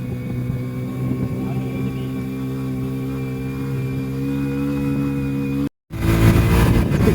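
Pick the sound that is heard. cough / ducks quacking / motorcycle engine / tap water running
motorcycle engine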